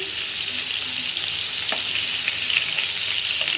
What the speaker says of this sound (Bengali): আলুগুলোকে একদম কড়া করে ভেজে নিচ্ছি। মাংসগুলোকেও ভেজে নিচ্ছি